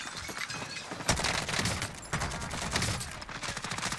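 Dense bursts of rapid M4A1 automatic fire in Warzone, loud and close, with sharp broadband cracks and a continuous clatter of shots throughout, no voices over it.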